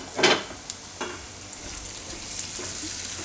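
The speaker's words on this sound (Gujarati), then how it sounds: "તો થોડીક વાર આને આપણે પકાવી લીધું સારી રીતે તેલમાં જ દૂધીને." Chopped bottle gourd fries in oil in a pan, giving off a steady sizzle close up, with a few stirring scrapes early on.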